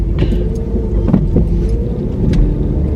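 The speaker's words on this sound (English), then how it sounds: "And I'm driving as if I know how to get home." A car drives through a city downtown, heard from inside as a loud, steady low rumble of engine and road noise with a few faint clicks and rattles over it.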